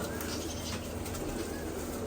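Pigeons cooing while being fed grain, a steady low murmur of coos and soft rustling close by, continuous for the whole stretch.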